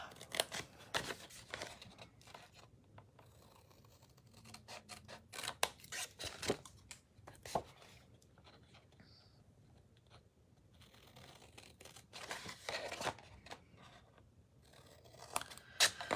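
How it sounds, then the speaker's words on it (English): Paper being trimmed with paper-cutting scissors while making a simple gift box, giving a series of close snips and crisp slicing cuts in uneven bursts, with some paper handling rustle between them and no talking. "get the right scissors, because we don't want to cut paper with ribbon scissors"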